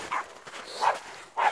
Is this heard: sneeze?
no